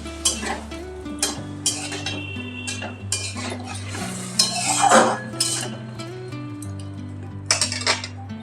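Masala is stirred and sautéed in a pan after a splash of spice-rinse water, with a spoon clinking and scraping against metal over a steady sizzle.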